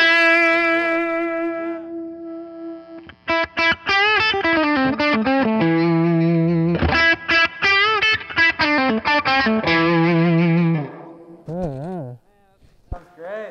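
A 1959 Gibson Les Paul electric guitar played through distortion effects: a loud, sustained chord, then a busy run of distorted notes and bends, ending with a few wavering, vibrato-heavy notes that trail off into quiet.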